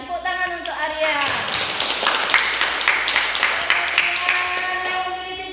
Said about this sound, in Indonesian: Tepuk tangan untuk Aryan